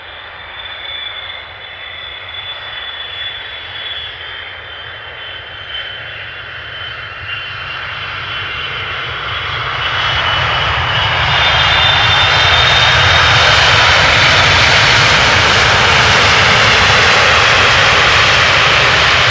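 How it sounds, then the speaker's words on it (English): An airliner lands at Amsterdam Schiphol Airport, its engine roar swelling from a distant hum to a loud, broad rush that holds steady to the end, with no voices. "Not the loudest of landings, but definitely smooth."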